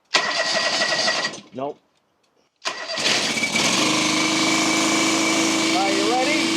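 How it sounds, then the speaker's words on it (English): A John Deere 425 lawn tractor engine that had been flooded with fuel is cranked and fires up. The engine runs steadily and loud up close, and a voice is heard briefly. "Let's see if it'll start without choking it."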